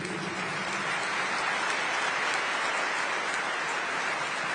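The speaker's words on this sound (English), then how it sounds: "And now I ask everyone to applaud every great heart" Audience applause at a speech and award ceremony at the US National Archives, a steady dense wash of clapping that fills the whole stretch, sounding like a large crowd heard from within the hall.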